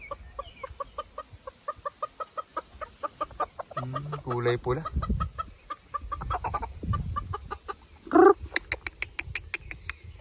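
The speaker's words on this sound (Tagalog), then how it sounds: "Oh, putak sila mga idol." Bantam chickens cluck in quick, repeated bursts close by, with a sharper squawk near the end and a brief spoken phrase partway through, in the mountains.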